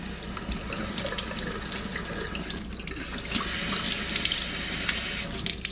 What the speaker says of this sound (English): So now I'm turning up the water back up